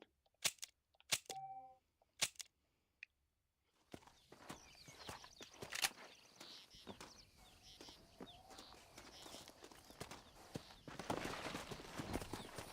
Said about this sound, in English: Is that the same skinny horse that I keep hearing?